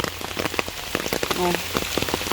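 Heavy rain falls hard and close on a surface in a rural spot, a dense patter of drops with a brief faint tone partway through.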